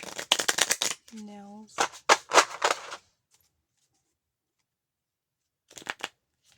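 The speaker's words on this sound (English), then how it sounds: "Let's do one more shuffle." A deck of playing cards is shuffled in quick riffling bursts, sharp crackling flutters up close, with a brief spoken word in between and a short second riffle after a pause.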